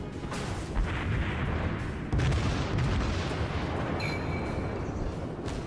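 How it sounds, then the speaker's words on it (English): Naval gunfire from warship guns in World of Warships: a dense, continuous run of heavy booms and rumbling blasts, loud and overlapping for the whole stretch, with a brief higher whine late on. "I have available guns to shoot at him"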